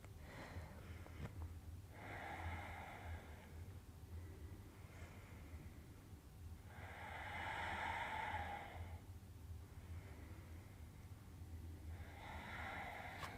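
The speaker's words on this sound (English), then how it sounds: "Hear the sound of your Ujjayi breath." Slow, steady Ujjayi yoga breaths, each long whooshing inhale or exhale lasting a few seconds with short pauses between, close and soft over a faint low hum.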